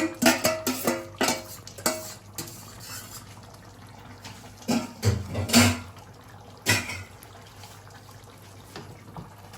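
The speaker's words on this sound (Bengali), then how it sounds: "রাইসটা তখন আমি এখানে মাংসগুলো অ্যাড করে দিচ্ছি" Mutton tehari cooking in a pot as meat is added to the rice, with a few short bursts of wet clatter and sloshing against a steady low background hum.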